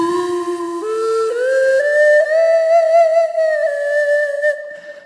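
A breath-controlled electronic wind instrument, played through a sound source that imitates acoustic instruments, plays sustained pure whistle-like tones that glide upward in pitch and then hold a long note, loud and alone.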